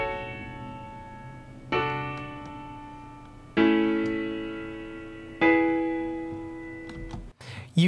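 Synth notes run through Studio One's AutoFilter plugin with the filter opened all the way, leaving a thin, high ringing tone on top; three sustained chords strike and decay in turn, with a brief burst at the end.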